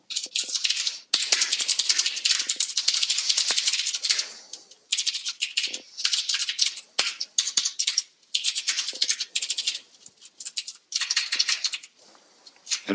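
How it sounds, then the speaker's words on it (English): Rapid clattering keystrokes on a loud, noisy computer keyboard, typed in bursts with brief pauses, close and prominent with no talking. "that's just why he bought that keyboard, because it's really noisy"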